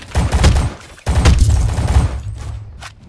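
A bouncing grenade blows up in a shooter game amid gunfire, two loud bursting blasts in quick succession followed by a fading crackle, close and dominant with no talk.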